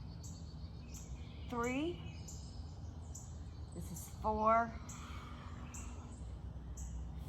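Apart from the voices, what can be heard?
birds singing outdoors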